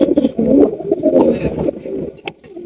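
Fancy pigeons at a farm coo in soft, repeated low throaty calls close by, with a few sharp scrapes and clicks among them.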